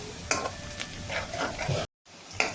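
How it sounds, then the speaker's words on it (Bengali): Onions browning in plenty of oil for mustard hilsa: a close, crackling sizzle with a few sharp spatula knocks, cut by a brief silent gap before the frying resumes. "পেঁয়াজগুলোকে আমি বাদামি কালার করছি"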